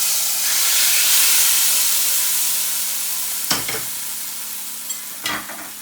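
Hot oil for a chicken haleem sizzles steadily in a pan with a dense, constant hiss, broken by two short sharper bursts near the end, close and fairly loud with no talking.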